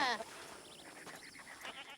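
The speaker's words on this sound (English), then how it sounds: "Oh, come here, you cute little billy goat." A short, nasal billy goat bleat rings out at the start in Red Dead Online, in New Austin, followed by softer wavering bleats and faint background noise.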